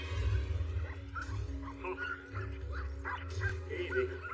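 A team of sled dogs yips and barks excitedly at the start of a run, with a steady low rumble beneath the overlapping calls.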